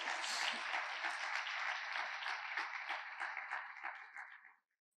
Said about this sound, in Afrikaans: Kan ons net hande klap gee vir mekaar vandag wat saam in die kerk is hierso